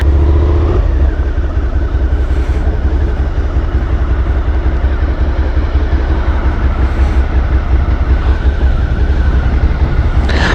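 A Suzuki SV650 motorcycle runs steadily throughout, a loud, continuous engine and road roar heard close from the rider's position with constant wind rumble and no pauses.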